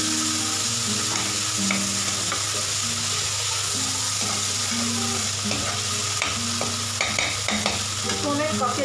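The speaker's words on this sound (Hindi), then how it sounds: "अब मैं इसमें डाल दूंगी ये बटर मिक्स करना है" Butter goes into a hot frying pan with tomatoes, a steady close sizzle under repeated stirring scrapes and taps of a spoon against the pan, with a faint hum beneath and no speech.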